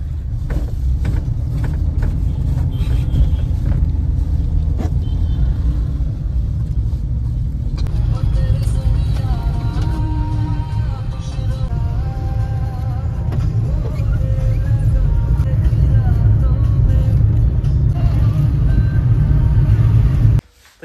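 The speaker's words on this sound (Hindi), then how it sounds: "देखो ना कितना ज़्यादा क्राउड है और ज़्यादा ही ट्रैफिक है" Heavy, crowded street traffic in Police Bazar market in Shillong, Meghalaya: a loud, continuous rumble of car and truck engines with horns and reversing beeps, passing vehicles near the listener, and people talking in the background.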